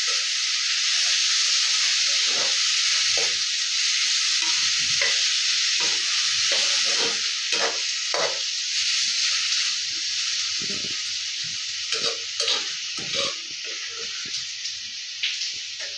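Mint, tomatoes and tamarind sizzle steadily in a hot pan, a continuous loud frying hiss with scattered stirring scrapes and clinks throughout, no voices.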